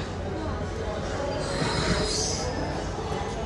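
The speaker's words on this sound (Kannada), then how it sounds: "ರೈಲ್ವೆ ಸ್ಟೇಷನ್ಗೆ ಬಂದಾಯಿತು." A train squeals and rumbles through a railway station in India, metal wheels screeching over a loud, steady mechanical roar.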